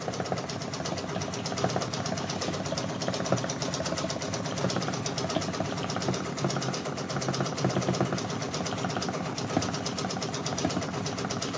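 An embroidery machine stitches a spaced-out tatami fill on a cherry fan-art patch, with no underlay. A dense, steady, rapid mechanical chatter runs close and continuous without a break, and no voices are heard.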